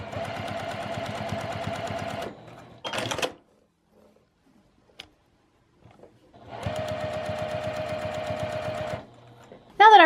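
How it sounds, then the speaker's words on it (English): Sewing machine running straight stitches through quilt scraps in two steady bursts of rapid mechanical clatter, each lasting a few seconds, separated by a quiet pause with brief handling noises. "I'm just going to run a couple straight stitches down here to secure this."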